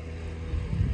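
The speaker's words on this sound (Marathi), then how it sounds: "आमची बोट आली आहे. ही बोट आहे." A boat arrives for a sea ride on a Konkan creek, heard as a low rumbling engine drone mixed with wind buffeting the microphone, steady and growing slightly louder toward the end.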